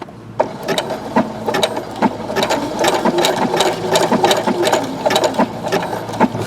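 A Brother SE625 sewing machine stitching a rope bowl runs with a steady, rapid mechanical chatter and regular needle thumps, close and fairly loud.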